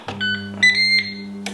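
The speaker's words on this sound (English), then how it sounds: "It's got the usual Ninja beep." A Ninja Woodfire electric grill and air fryer gives a short electronic beep sequence, a few clear high tones with a steady low hum beneath, ending in a soft click.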